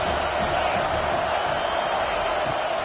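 A college football stadium crowd roars in a steady, dense wall of noise that holds at full volume throughout, with no single voice standing out.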